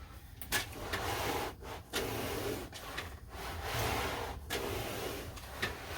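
A sponge mop scrubs paint into an RV camper bedroom carpet, giving a steady, faint rubbing and swishing texture with brief pauses between strokes, with no voices.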